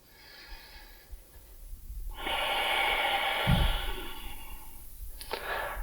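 Slow breaths drawn in and let out during a yoga pose in a vinyasa flow practice, a long airy inhale swelling midway with a short snort-like burst, close and soft with no talk.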